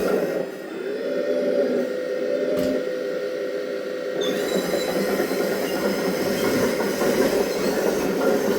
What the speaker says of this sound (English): The sound of the tracks.